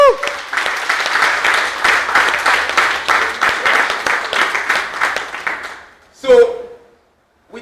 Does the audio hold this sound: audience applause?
yes